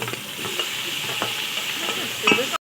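Green chillies and onions fry in a pan with a steady, close sizzle while being stirred, and a louder scrape or clatter comes near the end before the sound cuts off abruptly.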